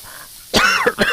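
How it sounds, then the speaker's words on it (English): A few harsh, close coughs follow a quiet moment, sounding strained and throaty, from someone choking in the morning. "Oh, a little bit of choking here this morning."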